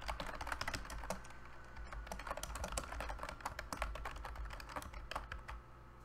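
Fast, continuous typing of code on a computer keyboard, close and fairly quiet, a dense patter of key clicks with no voices.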